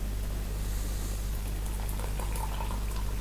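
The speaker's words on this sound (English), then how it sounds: "And I'm going to now add in some boiling water." Boiling water poured onto sugar in a container while bottling homebrew, a soft continuous liquid rush over a low steady hum, close and quiet with no voices.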